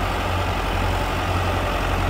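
A Belarus tractor engine runs steadily with a 60-blade rotavator in a potato field, giving a loud, continuous low rumble and drone with no break and no voices.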